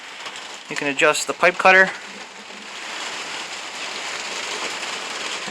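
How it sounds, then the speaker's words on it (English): Someone speaks briefly, then a soft, steady hiss of rain begins to fall outdoors and continues evenly as light background noise. "It's really starting to rain."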